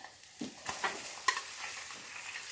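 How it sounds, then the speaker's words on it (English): Food cooking in a buttered frying pan is flipped with a spatula, giving a few soft scrapes and a light clack over a faint, quiet sizzle. "I don't trust my skills enough to flip this like a chef would. So I'm going to use a spatula."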